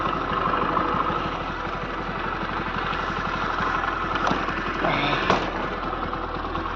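A motorcycle with a suspected fault runs at idle during a foggy night ride, its steady, close engine chug droning continuously with a few brief clicks and knocks near the end.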